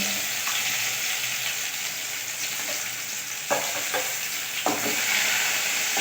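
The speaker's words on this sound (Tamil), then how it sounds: "கடுகும் வெந்தயமும் பொரிய ஆரம்பித்த உடனே கட் பண்ணி வச்சுட்டு வெங்காயத்தை நான் அதில் ஆட் பண்ணுறோம் சார்" Sliced onions frying in hot oil with sputtered mustard and fenugreek seeds for a Tirunelveli kuzhambu, a loud close sizzle with a few sharp spoon scrapes as they are stirred.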